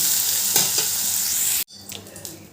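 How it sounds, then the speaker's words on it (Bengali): Carrot pieces fry with salt in a pan, a loud steady sizzle with stirring scrapes that cuts out abruptly, then returns softer with light clatter. "এবার গাজরগুলো ভালো করে ভেজে নেব নুন দিয়ে"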